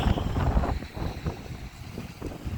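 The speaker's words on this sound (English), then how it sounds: "Sorry it's a little breezy today. Wind is kicking up." Wind gusts buffet the microphone outdoors on a breezy day, a rough, low rumbling rush that swells and eases across the short stretch with no speech.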